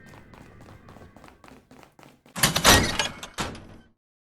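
A door in a video game is slammed shut and braced, a couple of loud heavy thuds and rattling knocks standing out after a run of quieter footstep-like taps.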